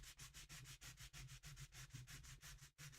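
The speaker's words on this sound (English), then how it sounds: "sanding." Rhythmic back-and-forth sanding over a sprayed finish, close and quiet, with steady regular strokes repeating alone without talk.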